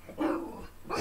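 A dog gives a single short bark that starts with a low, growly onset, heard up close indoors with a second brief sound at the end.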